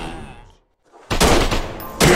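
Minigun and AK-47 fire in the zombie shooter game Zombie Land erupts in loud rapid bursts after a brief silence, dense automatic volleys cutting off and resuming close up.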